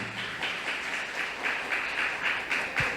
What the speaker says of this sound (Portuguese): Eu quero que a igreja louve a Deus com a salva de palmas pela vida desse casal